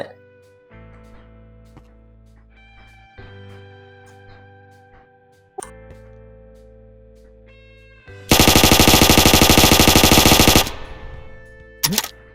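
Gunfire in the Minecraft Dynamiclife roleplay mod (version 1.7.10) near a bank as police arrive: tonal in-game ambience gives way to a loud, sustained burst of rapid automatic fire lasting about two seconds, followed by one short final shot.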